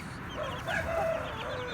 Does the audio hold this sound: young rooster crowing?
yes